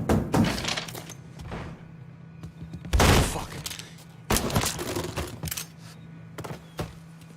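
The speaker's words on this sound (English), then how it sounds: "We heard gunfire." Several heavy bangs of gunfire in the game Mafia 3 in separate bursts, loud and close, with a low hum underneath and no clear talking.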